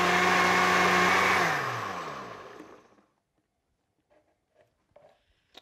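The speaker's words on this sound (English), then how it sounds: "Just let it blend for a second." A kitchen blender whirs loudly while mixing a vegan jerk tofu marinade, then winds down and stops after about two seconds, leaving a few faint clicks and taps in near silence.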